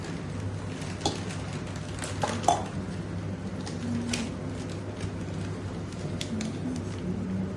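Prawns are mixed by hand with maida flour, cornflour and lemon juice in a bowl, making soft, wet squishing and light clinks of a steel dish, continuous and close over a steady background hum.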